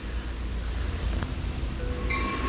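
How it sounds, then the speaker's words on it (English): Subway train in a children's cartoon giving a steady rumbling roar with a rattling wash of noise, continuous and fairly loud with no voices. "I found the subway."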